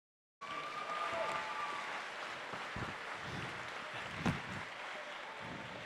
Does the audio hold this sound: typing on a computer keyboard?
no